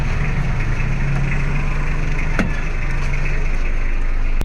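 Mitsubishi Adventure with a 4D56 diesel engine idling after a timing belt change, a steady low rumbling chug heard close and alone, with a brief click partway through.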